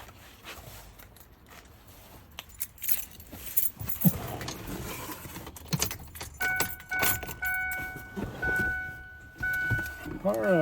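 Car keys for a 2002 Ford Explorer Sport Trac jingle and clink in bursts near the vehicle, with scattered handling noises and electronic beeps toward the end.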